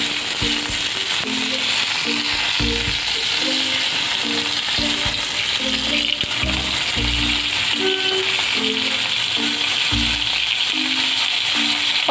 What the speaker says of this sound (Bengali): পটলগুলো ভেজে নেব